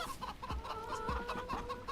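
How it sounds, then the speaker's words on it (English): Chickens cluck in the Kingdom Come video game, a run of short repeated clucks and squawks at moderate distance, fairly quiet, with no talk. "Watch out, you bloody chickens."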